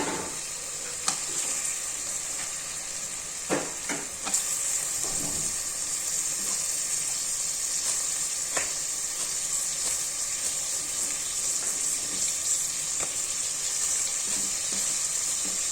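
Tomatoes go into a hot frying pan for chicken biryani, and a loud steady sizzle of frying fills the whole stretch. A few sharp clacks of stirring and utensils break through it.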